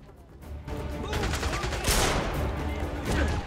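Gunfire from the James Bond: Bloodstone video game on Xbox 360, a dense continuous burst of shots and shotgun blasts filling the clip, loud and close, with faint talk beneath.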